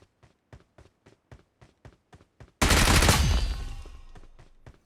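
In a battle royale game, an enemy opens fire in a sudden loud, sustained burst of gunfire that slowly trails off, after a run of soft, evenly spaced footsteps.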